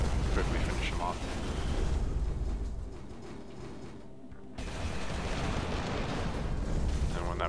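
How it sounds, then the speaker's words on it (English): Missiles strike a gun turret in the top-down shooter Steel Storm: Burning Retribution, a dense, continuous roar of blasts and rumbling explosions that dips briefly, then surges back under a voice. "these turrets we can get pretty close to them and use missiles on them to quickly finish them off"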